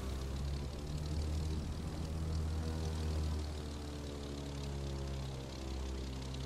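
Propeller airplane engine in the racing game The Crew 2, a steady loud droning hum with strong low tones as the plane restarts after landing, running continuously throughout with no speech.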